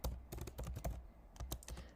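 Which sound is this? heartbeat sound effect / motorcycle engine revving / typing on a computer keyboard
typing on a computer keyboard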